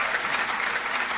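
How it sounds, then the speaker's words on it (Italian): Audience applause for a little girl on a live radio-TV show, a short burst of dense, even clapping without voices. "Vieni amore, facciamo un applauso"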